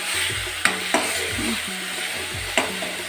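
Onion and tomato cook in a pan with a constant close sizzle. A spoon scrapes and taps the pan now and then.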